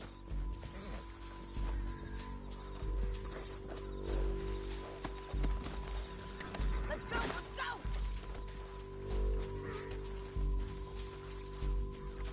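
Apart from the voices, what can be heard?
horse hooves from the video game Red Dead Redemption 2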